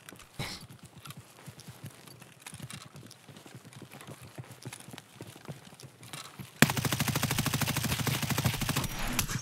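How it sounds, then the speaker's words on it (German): Rapid bursts of automatic gunfire from the video game Escape From Tarkov. The shots crackle faintly and at a distance for several seconds, then a loud, dense volley breaks out close by and keeps going to the end. "Vorne sind schon Schüsse."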